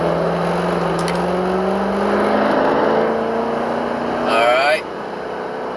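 Turbocharged car with a cheap antilag setup pulling in second gear with the converter locked from about 40 mph on a residential street; the loud engine drone rises steadily, then drops off, with a brief spoken word.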